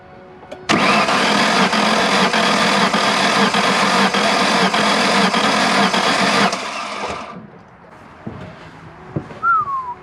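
A car engine cranks steadily on the starter for nearly six seconds during a cylinder compression test, with a loud, even rhythmic churn that stops abruptly. Faint shop noises and a brief whistle-like squeak follow.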